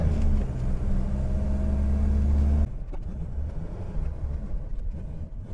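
A Datsun pickup truck runs on petrol in its diesel engine, giving a loud droning hum that cuts off abruptly partway through and leaves a quieter rumble of road and engine noise.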